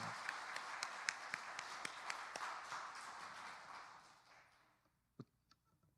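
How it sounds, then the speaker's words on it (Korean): Applause from a church congregation, dense clapping that gradually fades away, leaving a few isolated claps near the end. "우리 옆에 계신 장로님들을 위해서 박수 한번 보내드립시다"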